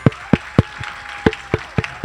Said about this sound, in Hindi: इन लोगों के लिए एक बार जोरदार तालियां बजाएं।